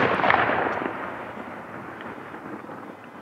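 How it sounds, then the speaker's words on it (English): A cannon fired at a distant school booms once, a sharp muffled blast that rolls off into a fading rumble outdoors at a disc golf course, with no talking. "I think they're firing a cannon over at that school"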